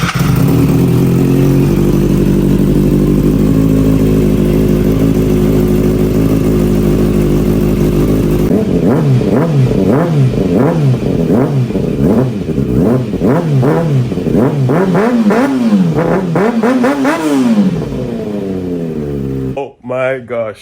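A Kawasaki Ninja ZX-6R, rebuilt after a crash, with its muffler reconnected, has its starter cranking steadily before the engine catches and revs up and down loud and close in rising and falling sweeps, then cuts off.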